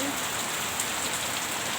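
Unseasonal rain falling steadily, a dense even hiss of drops on surfaces, constant and close with no breaks.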